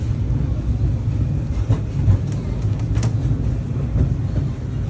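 The Disneyland Railroad train rolls steadily along its track, a continuous low rumble with faint rhythmic clacks of wheels on rails, heard from on board.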